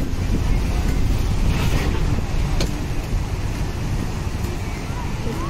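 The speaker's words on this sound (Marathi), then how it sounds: "खूपच उंच लाटा आहेत" High sea waves at the Mumbai shore with strong wind, a loud rushing roar of surf and wind buffeting the microphone continuously.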